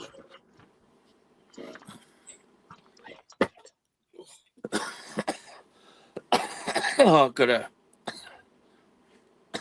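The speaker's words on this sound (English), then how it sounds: "I'll mute while I'm having my coughing fit." Several harsh coughs break out between quiet murmured words, growing into a loud, rough burst of coughing near the end.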